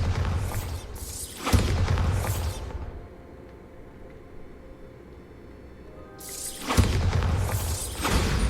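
Two heavy blasts from the Bombarda spell in Hogwarts Legacy, each a loud boom with a shattering, debris-filled tail, separated by several seconds of quieter rumbling ambience.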